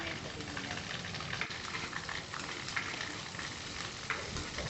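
Chana dal, curry leaves and green chillies frying in about two tablespoons of oil in a pan, a dense steady sizzle with occasional crackles and pops, close and continuous.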